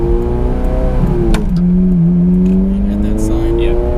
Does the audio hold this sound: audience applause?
no